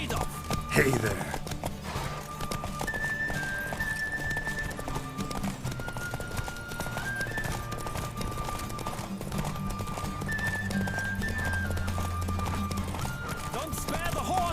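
Hoofbeats of a horse racing flat out in The Witcher 3, a dense rapid drumming that runs the whole time with a few neighs, heard over background music and talking characters.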